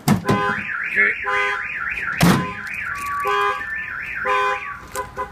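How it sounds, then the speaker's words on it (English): Truck alarm set off at the rear tailgate, wailing in a rapid rising-and-falling electronic siren pattern, close and loud, with a couple of sharp clunks mixed in. "the rear tailgate it's going to fire off the alarm."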